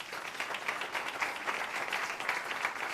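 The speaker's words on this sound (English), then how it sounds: "Can we give them a round of applause, please?" Audience applause at a community event, a dense, steady wash of many hands clapping at once, sustained and even throughout.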